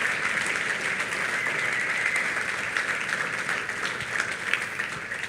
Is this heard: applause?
yes